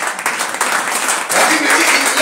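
A church congregation applauding and cheering for the Lord during a sermon, dense close clapping and shouting that swells louder partway through the short burst.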